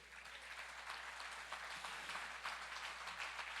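A church congregation at a service in Nashville applauds in a steady, dense wash of clapping that holds at an even level for several seconds, with no voices rising above it.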